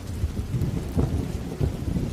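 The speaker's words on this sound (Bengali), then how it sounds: "দেখো না কি সুন্দর বৃষ্টি হচ্ছে" Rain and thunder as a sound effect in a Bengali village horror audio drama, a close steady patter of rain with low rumbling thunder swelling in uneven waves, heard alone without voices.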